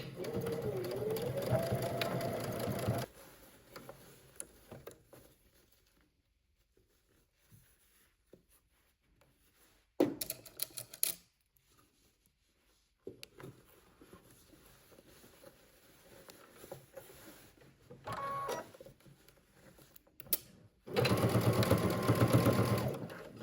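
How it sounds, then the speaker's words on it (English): A sewing machine stitches a jacket loop in short bursts, with a run at the start, brief whirs in the middle and another burst at the end, separated by quiet handling pauses. "let's head to the sewing machine"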